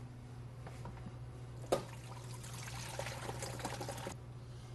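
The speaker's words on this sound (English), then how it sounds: "Shut it off and drain it. Okay, we're going to drain this out." Sanitizer drains from a SaniServ WB-700 frozen beverage machine, a steady pouring trickle of liquid running for several seconds over a constant low machine hum, then stopping abruptly.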